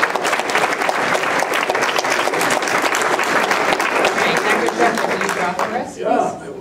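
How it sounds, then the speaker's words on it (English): Loud, dense applause from a large audience at a community health event, continuous clapping that tapers off at the end as voices and crowd murmur come through. "I'd like to just do one more round of applause"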